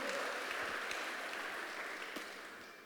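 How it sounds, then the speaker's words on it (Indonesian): A church audience claps in a brief burst of applause that fades gradually over a few seconds, fairly quiet and without speech. "Tepuk tangan bagi Allah kita, saudaraku."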